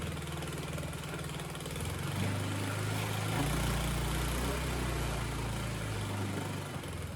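A reverse trike go-kart's small engine runs steadily close by, its throttle worked by hand so the low drone swells and eases, rising in pitch midway and holding there, with no talking.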